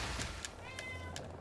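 A female house cat meows indoors, three or four short, clear calls spaced evenly over a low steady background hum.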